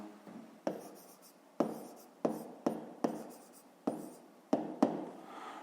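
Pen writing on paper while working a fifth-grade math exercise, a run of distinct scratchy strokes in short bursts, each starting sharply and fading, close up with no talk.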